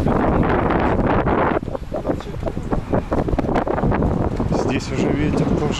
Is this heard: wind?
yes